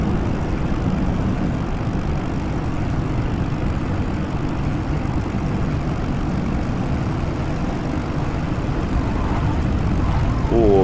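A propeller aircraft approaching a snowy runway to land in X-Plane 11 gives a loud, continuous low engine drone and propeller hum, steady and unbroken throughout.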